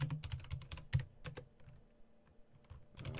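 Someone typing a command on a computer keyboard, a burst of rapid key clicks, a brief pause with a few scattered taps, then more keystrokes at the end, close and fairly quiet with no talk.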